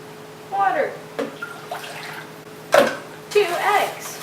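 Water poured into a bowl of boxed pumpkin spice cake mix along with oil, several short splashy pours in separate bursts, close and fairly clear against a quiet kitchen background.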